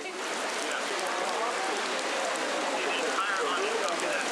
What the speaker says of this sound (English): We've had a lot of rain, especially today.